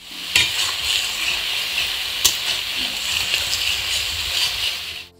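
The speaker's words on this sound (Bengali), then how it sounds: "আদা জিরে আর কাঁচা লঙ্কা বাটাটা মা এবার দিয়ে দিচ্ছে দেখো মশলার মধ্যে" Ginger, cumin and green chili paste frying in hot oil for a mixed vegetable chorchori, a loud steady sizzle with stirring and a few sharp spatula knocks, close up and without talk.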